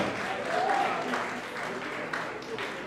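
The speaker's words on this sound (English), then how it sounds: "Please, a round of applause for them." An audience applauds women being honored at a post-COVID heroes award ceremony, a moderate steady patter of clapping from a crowd in a hall, somewhat distant, with voices mixed underneath.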